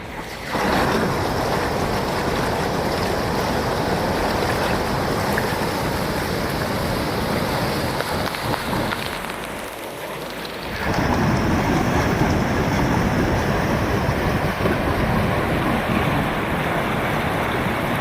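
A strong mountain stream near a homestay by a bridge rushes loudly and continuously, a broad close roar of flowing water that dips briefly before resuming at full force, with no voices.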